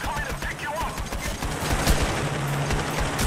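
Gunfire in the heist shooter Payday during the Heat Street mission, a dense fusillade of rapid automatic shots crackling continuously, with voices faintly mixed in.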